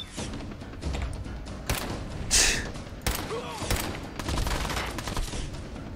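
Gunfire in the video game Fallout 4, a dense burst of loud shots and thuds layered over game background sounds, with a sharp peak midway and further impacts after.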